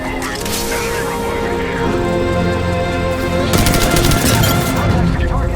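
Rapid gunfire in a video game combat scene, continuous automatic bursts and shots building into a dense, loud barrage near the end, layered over game music and effects.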